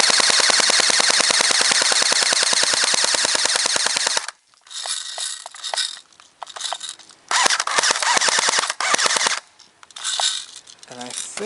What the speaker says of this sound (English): I'll go ahead and fire the rest of what's in this gun for you guys.